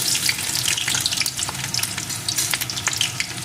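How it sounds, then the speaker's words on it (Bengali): Dried red chilli and chopped onion hit hot mustard oil in a pan, giving a loud, steady frying hiss with crackling pops scattered throughout, close by and with no talk. "তেলটা গরম হয়ে গেছে এখন এর ভিতরে দিয়ে দেবো একটা শুকনো লঙ্কা দিয়ে দেবো একটা পেঁয়াজ কুচি"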